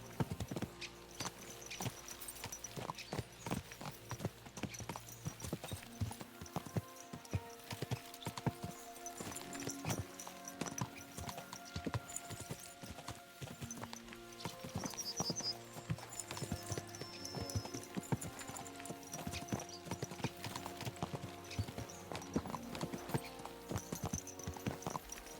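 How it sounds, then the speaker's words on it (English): Continuous clip-clop of horse hooves in the medieval video game Kingdom Come: Deliverance II, rhythmic and steady over the full stretch, layered with game music and ambience and no talk. "Let's really spur these horses on, eh?"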